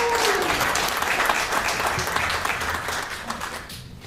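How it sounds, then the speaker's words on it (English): Audience applause at a Tongan community graduate recognition event, dense clapping from a crowd that holds steady, then thins and fades out near the end. "So yes, applause."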